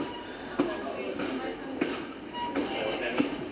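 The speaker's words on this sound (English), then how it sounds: "here the train slowed down drastically" Adirondack Scenic Railroad train noise rumbling steadily with periodic rhythmic clacks, the pace easing as the train slows drastically, under a continuous broadband roar.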